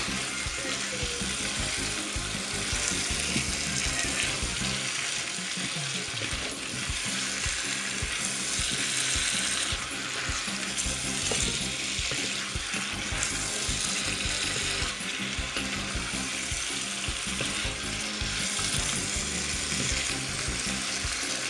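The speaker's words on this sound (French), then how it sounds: "On va tourner tout ça. On va bien mélanger" Chicken curry with calabash and chayote being stirred in its sauce, a steady loud sizzle and bubbling with the scrape and clink of a spoon against the pot, continuous and close with no talking.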